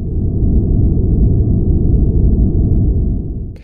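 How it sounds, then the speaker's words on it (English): Synthesized simplex noise plays alone as a steady, loud, smooth low rumble with a dark tone, similar to cabin drone, holding evenly for over three seconds before cutting off abruptly. "And this is what simplex noise sounds like."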